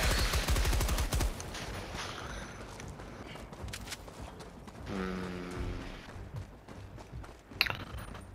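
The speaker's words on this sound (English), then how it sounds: "Oh, machine gun." Rapid automatic fire from a machine gun in the Helldivers 2 video game, a dense burst of shots at the start that fades into mechanical clatter and background game noise.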